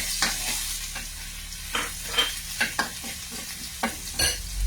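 Garlic sautéing in a hot pan for malunggay misua, steady sizzling broken by repeated scraping stirs of a ladle, close and fairly loud with no talk.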